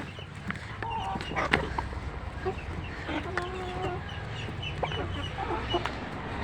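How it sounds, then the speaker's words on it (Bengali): Several chickens cluck and call close by in a steady, overlapping stream while eating a natural feed of crushed paddy, wheat and maize mixed together, with a few louder squawks standing out. "এই মুরগিগুলো সেই খাবার খায়"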